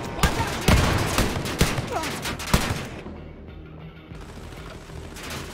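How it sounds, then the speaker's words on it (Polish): Gunfire in Wolfenstein Youngblood, a rapid string of sharp shots in the first half with loud individual cracks, then quieter rumbling combat noise with a brief voice underneath. "Kto do mnie strzela?"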